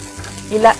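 Sliced yellow, red and green capsicum hit a hot teppanyaki griddle with paneer, making a short close burst of sizzle that swells for an instant and fades.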